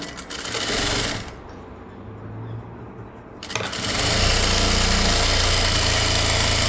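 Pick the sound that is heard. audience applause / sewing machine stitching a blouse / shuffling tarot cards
sewing machine stitching a blouse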